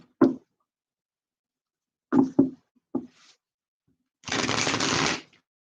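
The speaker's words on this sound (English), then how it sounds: "Just one more shuffle." Tarot cards being shuffled: a few soft taps and knocks of the deck, then a short papery riffle burst, close and quiet with no voices.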